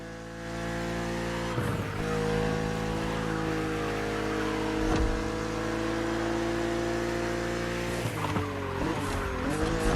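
A BMW Z roadster races in the video game The Crew Motorfest, its engine holding a loud steady drone with shifting pitch, a tire squeal or skid near the start and another rough burst of revving toward the end.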